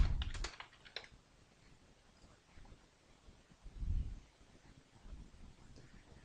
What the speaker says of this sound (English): You can click reply and type away.